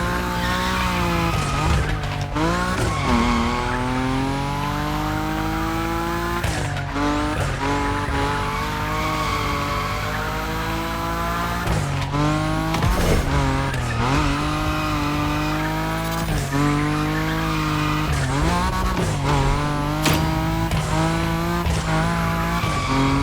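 A Nissan Nismo drifting at high speed in The Crew Motorfest, with its engine roaring steadily and rising and falling through gear changes while tires squeal and skid continuously, loud and close throughout.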